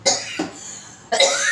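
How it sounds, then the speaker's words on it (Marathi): A person coughs twice during Marathi home cooking of rice-flour papad dough, two sharp close bursts with a quiet gap between them and no talking. "मला खोकला आला"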